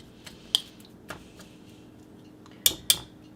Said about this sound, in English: I'm going to take the whisk and just whisk all this up